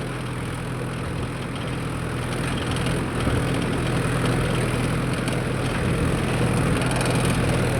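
A Mahindra Yuvo 4WD tractor pulls a nine-tine cultivator through hard field soil, its diesel engine a loud, steady drone with a slight rise in load partway through.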